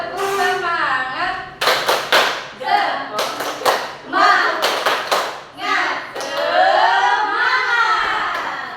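A group spirit clap during an Indonesian-language class presentation: several bursts of sharp clapping from many hands, mixed in among voices chanting and talking together.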